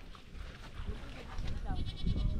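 Goats bleat on a farm amid noisy outdoor rumble, with a person speaking nearby; the bleats are brief and partly masked by the surrounding sound.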